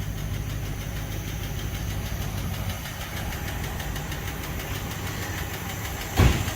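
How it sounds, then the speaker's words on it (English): A 1949 Packard engine idles steadily nearby with a faint recurring tick in its rhythm, a low even rumble that carries on without pause and has one brief thump near the end. "Really wish the little tick would go away. Yeah. I think that would make it idle smooth too."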